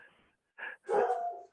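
A dog barks in two quick yaps near the microphone during a remote town conservation commission meeting, the second bark longer and louder.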